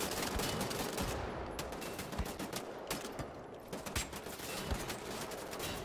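Rapid gunfire from shooting in the first-person shooter Wolfenstein: The New Order, a dense stretch of repeated shots and bursts at moderate level throughout, with no talk.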